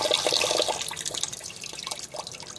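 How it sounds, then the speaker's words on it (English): Water running and dripping while a soapy paint brush is rinsed out at a sink, a close, continuous splashing trickle with irregular drips, loudest at first and easing slightly toward the end. "you do need to make sure it stops dripping"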